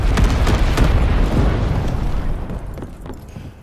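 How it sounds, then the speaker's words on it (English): Incendiary bomb dropped by a low-altitude bomber in Call of Duty: WWII, a loud, sustained booming explosion with heavy rumble that slowly fades over a few seconds. "Low altitude bomber inbound. Dropping incendiary."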